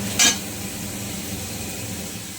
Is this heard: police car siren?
no